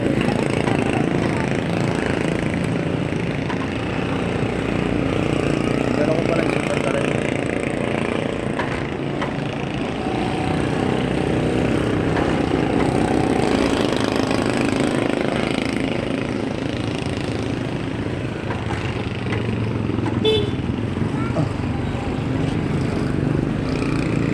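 Motorcycle engine running steadily on a mountain delivery route, a continuous rough drone close to the listener with no clear revving, mixed with outdoor background noise throughout.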